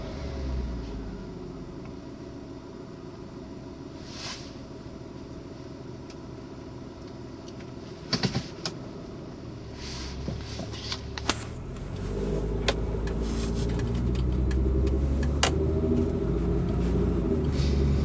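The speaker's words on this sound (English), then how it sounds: "here's the actual driving portion of the video test drive" A 2003 Mitsubishi Eclipse cruising on the road, giving a steady low engine and tire rumble throughout with a few brief knocks and bumps, and the road noise swelling slightly louder toward the end.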